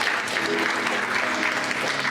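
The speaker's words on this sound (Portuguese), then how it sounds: "Você pode aplaudir o Senhor Jesus nessa noite." A congregation claps during an evening church service, continuous broad applause from a full room, steady and even throughout.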